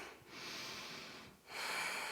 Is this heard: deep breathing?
yes